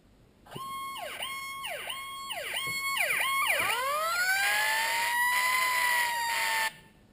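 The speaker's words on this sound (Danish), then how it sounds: "Alarm i øjeblikkelig zone." A Jablotron alarm system siren goes off loud and close, starting as a few repeated rising-falling electronic wails and then holding a sustained, layered tone for several seconds before cutting off abruptly.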